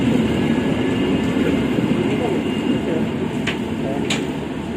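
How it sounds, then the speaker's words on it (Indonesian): Empty cement freight train pulling out of a historic station, a steady low rumble and rolling rail noise with faint high metallic squeals, heard nearby throughout. "Ini yang barusan berangkat adalah kereta api semen kosongan"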